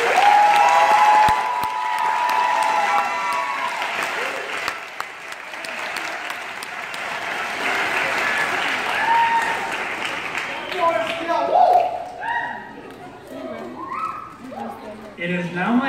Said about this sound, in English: Please join me one more time in giving them an enthusiastic round of applause.